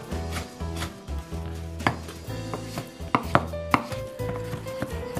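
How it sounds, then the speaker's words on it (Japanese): A knife finely minces three or four slices of cured Spanish ham (jamón) on a cutting board for ajillo, giving steady rapid chopping taps with a few sharper knocks, close and clear, over faint background music. "この生ハムをね、細かくみじん切りにしていくんですよね。"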